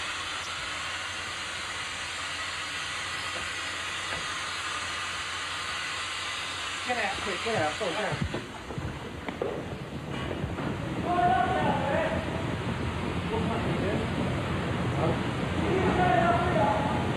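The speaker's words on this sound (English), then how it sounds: "That loud hissing noise you can hear, that's cylinders letting off, right?" Gas cylinders caught in a fire vent with a loud, steady hiss that grows stronger toward the end, while people shout urgently nearby.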